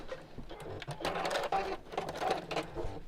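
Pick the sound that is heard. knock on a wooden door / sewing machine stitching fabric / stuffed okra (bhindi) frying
sewing machine stitching fabric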